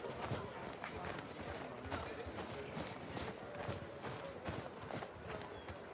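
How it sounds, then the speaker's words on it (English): Horse hooves clip-clop in a steady, quick rhythm across a stable yard in The Last of Us Part II, close and fairly crisp, with faint background ambience. "Look at the horse."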